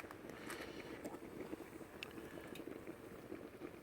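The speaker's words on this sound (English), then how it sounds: "Rolling boil." Water at a rolling boil in a pot on a small twig-burning camp stove outdoors, a steady faint bubbling hiss with light wind noise, no voices.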